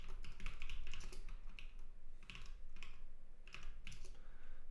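Steady typing on a computer keyboard while writing Rust code for a compiler, a dense stream of rapid close clicks and clacks with brief pauses between bursts, no talking.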